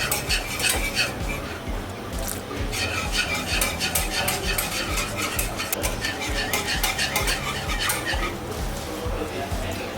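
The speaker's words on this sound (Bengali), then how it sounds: "এভাবে পুরোটাকে ভালোভাবে মিক্স করতে হবে।" A spoon or whisk stirs milk into a bread pizza topping mixture in a bowl, a steady run of scraping and clinking against the vessel throughout, close and moderately loud.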